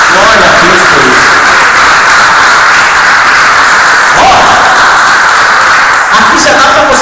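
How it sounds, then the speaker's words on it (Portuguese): A church congregation claps in praise during an evangelical Portuguese-language service, with dense, loud, continuous applause filling the space throughout and voices mixed in. "Vamos aplaudir esse Deus poderoso, porque Ele merece."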